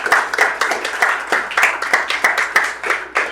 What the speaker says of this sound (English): let's please give a warm, heartfelt round of applause for Winecellars.com